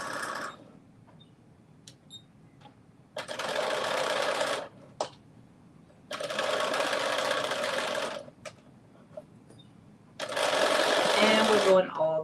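A home sewing machine runs in three steady bursts of stitching around a garment pocket with a 3/8-inch seam allowance, separated by quiet pauses and brief handling clicks, close and fairly loud.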